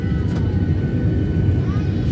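Loud, steady cabin roar fills the inside of a Delta Airlines Boeing 737 on the ground before takeoff, a dense low rumble with a constant hiss layered above.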